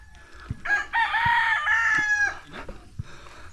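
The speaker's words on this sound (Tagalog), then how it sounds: "Ang daming manok." A rooster crows loudly in one long, drawn-out call, with brief clucks and scattered farmyard noises around it.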